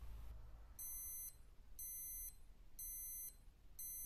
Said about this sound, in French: À nouveau 5 bips signalant les 5 dernières secondes